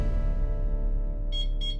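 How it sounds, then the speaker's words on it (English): A home panic alarm goes off after its panic button is pressed, two short, high electronic beeps in quick succession over a low background hum. "When the panic button is actually pressed, it sends a loud noise throughout the whole house"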